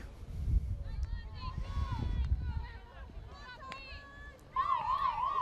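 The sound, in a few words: halftime siren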